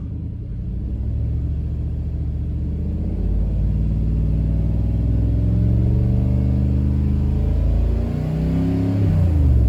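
A 2004 Toyota 4Runner engine with a P0102 mass airflow fault revs steadily upward past 3,000 RPM, a loud, continuous close-up rumble rising in pitch over about ten seconds with no talking.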